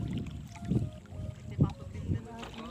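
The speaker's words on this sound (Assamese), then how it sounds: "মই এইবাৰ নাৱত উঠিলোঁ, সিপাৰলৈ যাব ওলালোঁ।" A wooden country boat crossing the Brahmaputra river, with low water sloshing and lapping against the hull in irregular surges, wind buffeting the microphone and someone talking over it.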